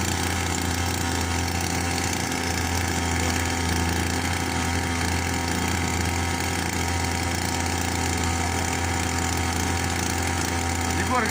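A small string trimmer engine rigged as a boat motor runs loud and nearby, a continuous high-pitched buzzing drone that holds steady without pause.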